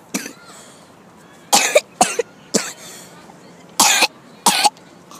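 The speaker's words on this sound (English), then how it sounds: "Sorry about that coughing." A series of sharp, close coughs, two or three isolated bursts and then clustered hacks, loud against a quiet outdoor background during a hillside outing.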